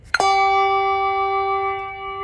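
A handbell choir plays with thumb damping: a single bright metallic strike rings out as a chord of tones, close and clear, sustaining steadily afterward with no voices.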